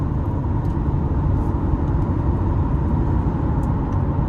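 Steady, loud road and engine rumble from inside a 2027 Chevrolet Corvette Stingray coupe 1LT with 6.7 engine cruising smoothly on the interstate in tour mode, a constant unbroken drone.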